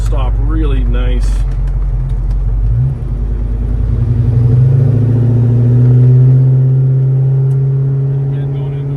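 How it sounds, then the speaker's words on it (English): A 1968 Chevrolet Chevelle Malibu big-block convertible cruising, its V8 giving a steady, close-up rumble that swells as it accelerates and holds through a turn, with someone talking over it throughout. "absolutely pleased out here driving a big block Chevelle convertible"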